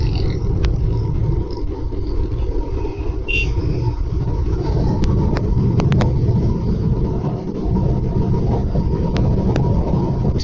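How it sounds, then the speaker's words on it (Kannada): A second-hand Bajaj NS200 BS3 200cc motorcycle engine runs with a steady, continuous low rumble close by, holding a constant level throughout, with a few faint clicks on top and no talking. "ಇದು ನನ್ನ ಗಾಡಿ ಒಂದು NS 200."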